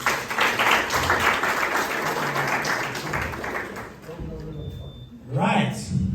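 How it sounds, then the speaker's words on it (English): Applause at a business masterclass audience, a dense wash of clapping that fills most of the clip, fades near the end, then briefly swells again, with a voice talking over it. "give them a round of applause"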